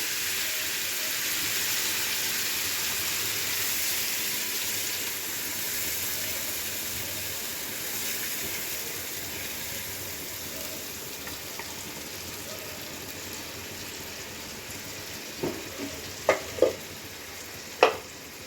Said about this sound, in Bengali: তেলের মধ্যে জিরেটা ফোড়ন দিয়েছি, এবার এই টমেটো আদা আর নারকেলের পেস্টটা দিয়ে দেব।